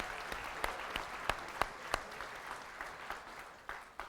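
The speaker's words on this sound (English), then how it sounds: "Can we have a round of applause for?" Audience applause following a juggler's performance at a church service, a steady patter of clapping with a few sharp individual claps standing out, moderately distant and fading slightly toward the end.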